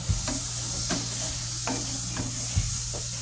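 Onions frying in a pan of dab chingi, prawns cooked in a tender coconut with coconut milk, sizzle steadily while a utensil stirs them in a few soft scraping strokes, with no one talking.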